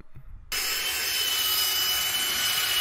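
A bag of stampable concrete overlay is churned by a power mixer. The motor kicks in after a brief quiet start and then runs as a steady, loud, close grinding whir.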